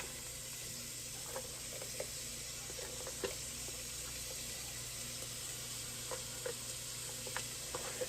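Chopped onion and celery fry gently in melted butter in a pot, a soft, steady sizzle with occasional light clicks of stirring, quiet and unaccompanied by speech.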